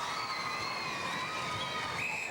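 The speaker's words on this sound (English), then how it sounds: "Packed crowd here at the AS Arena." A packed, sold-out indoor arena crowd at an international netball test between the Diamonds and England keeps up a dense, continuous roar of cheering and shouting throughout the short stretch.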